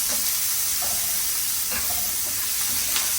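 Onion and garlic sauté in a hot pan, giving a steady, loud sizzle and hiss with occasional soft scraping taps as a utensil stirs them, close by and without any talking.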